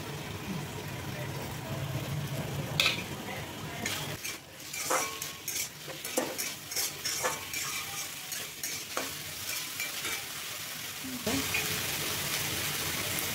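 Cooked rice fries in a pan with chopped onion, chilli and egg, a steady close sizzle broken by repeated scraping stirs and clinks of the spatula.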